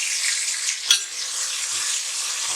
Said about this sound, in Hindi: लहसुन और प्याज अच्छी तरह भून गई है।